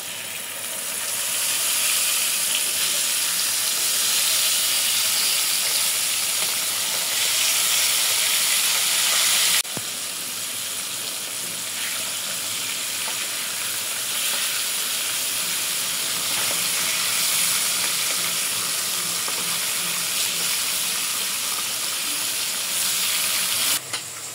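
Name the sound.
hilsa fish frying in oil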